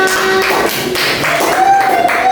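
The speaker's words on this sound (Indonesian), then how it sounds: "Tolong kasih aplaus untuk temannya" Classmates applaud a student at the end of her presentation in a classroom microteaching lesson; a steady wash of hand claps fills the room for a couple of seconds, fairly close and even in loudness.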